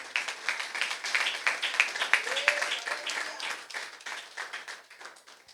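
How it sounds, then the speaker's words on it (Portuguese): A church congregation claps in a quick, steady rhythm, fairly faint and somewhat distant, with a voice speaking over the clapping. "As palmas glorificam o nome dele,"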